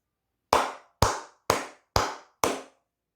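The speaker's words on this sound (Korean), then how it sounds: "크게 박수 한번 치고 가도록 하겠습니다." Five loud, evenly spaced claps about half a second apart, each sharp, close and echoing briefly against silence.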